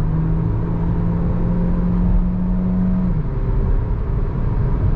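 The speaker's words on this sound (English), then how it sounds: "I will put the car to sport mode. There we go. And let me accelerate." A 2024 Hyundai Kona hybrid with 141 hp accelerates in sport mode, heard from inside as a steady engine drone with a rising whine that levels off, over continuous road and wind noise.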